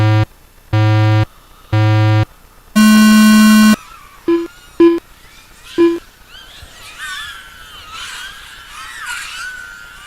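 Race start tones at an FPV drone race: three identical steady beeps, then a longer higher tone, loud and close, followed by a few short clicks and faint background chatter.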